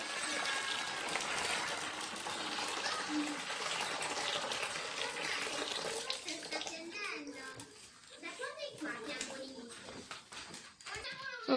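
Hot water poured into a container holding conditioner, a steady gushing pour for several seconds before it tapers off and voices talk over quieter splashes.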